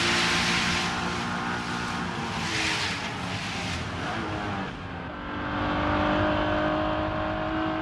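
Honda NSX sports car driving, a continuous engine and road roar with a rising tone, a brief dip around the middle and then a strong pull again, with no talking.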